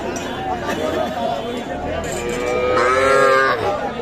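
Calves and young cattle moo loudly over a busy crowd's chatter and shuffling at the Kaharol livestock market in Dinajpur, Bangladesh, with one long, drawn-out low call rising near the end.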